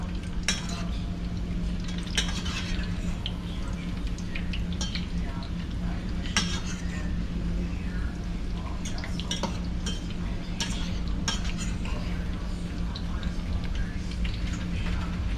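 Ripe plantain fries in a pan on a Jamaican breakfast stove, a steady sizzle under occasional clinks and scrapes of a utensil stirring against the pan.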